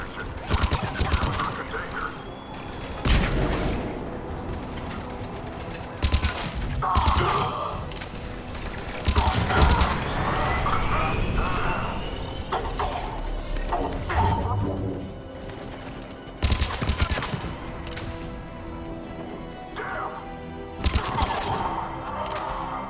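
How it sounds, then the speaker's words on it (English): Dense gunfire in the video game Mass Effect 3, with repeated bursts of rapid shots and heavy weapon blasts set against a busy battle soundscape. Voices speak over the combat. "They're under fire."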